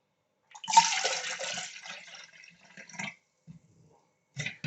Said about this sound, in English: that's the coconut water. I'll pour it in this.